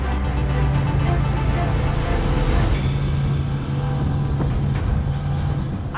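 A Salpa Soleil 42 motorboat's engines drone steadily at about 3,800 rpm while cruising near 30 knots, a loud continuous low roar with wind and water rush throughout.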